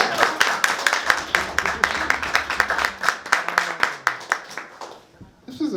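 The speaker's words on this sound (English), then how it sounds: "More applause for Bronwen, please." An audience claps steadily in sustained applause that tapers off toward the end, with a voice speaking briefly near the close.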